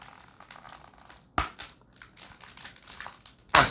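A premium gold Panini FIFA 365 2021 Adrenalyn XL card pack glued to paper is torn open and peeled off, giving close crinkling and rustling with two sharp rips.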